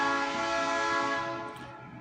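A passing train sounds its horn in one long, steady, loud chord that slowly fades toward the end.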